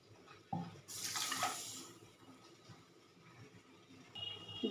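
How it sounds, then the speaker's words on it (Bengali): Water poured into a cooking pan to make sugar syrup, a short splashing pour that rises quickly, holds for about a second and then trails off into a quiet kitchen. "1 কাপ জল দিয়ে দেবো।"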